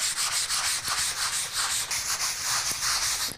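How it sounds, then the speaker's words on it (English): Continuous light sanding of a craft backer before painting, done in steady circular strokes that make an even, close scratchy rub with periodic swells and no talking. "we are gonna go ahead and lightly sand everything"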